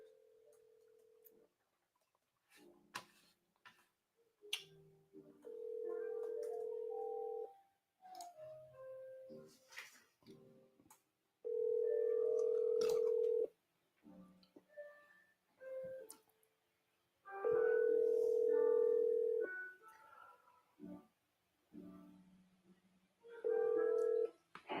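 An outgoing phone call rings out in the earpiece with a steady ringback tone, about five two-second rings spaced roughly six seconds apart. Faint clicks and soft noises come between the rings.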